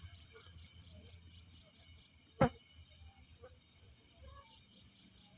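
Crickets chirp in the dark of night during Ramadan in Sragen, a steady train of quick, bright pulses that pauses briefly and then resumes, with a single sharp knock partway through and no voices.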